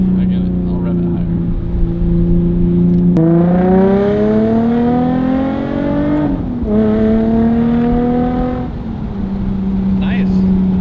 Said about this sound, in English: I get it. I'll rev it higher.